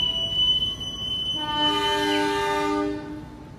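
A passenger train's horn sounds close by as it departs a station in Indonesia, a long sustained blast over rumbling rail noise that fades toward the end.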